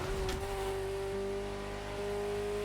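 A Ferrari sports car engine in the video game The Crew Motorfest holds a steady, loud, buzzing rev, its pitch shifting slightly as it runs close by without pause.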